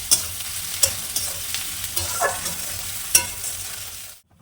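Onion frying with a pinch of salt in a pan, a steady close sizzle broken by sharp spatula scrapes and taps, ending abruptly in silence.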